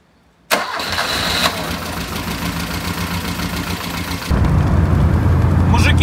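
An Alfa Romeo 33 with a 1.7 16V boxer engine fires up after a brief silence, settling into a steady, close mid-pitched idle before the revs rise and the engine grows louder toward the end.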